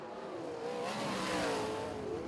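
Sprint car engines from the USAC National Sprint Car Series at Terre Haute roar around the track corners, a loud sustained engine drone that rises and shifts in pitch as the cars pass.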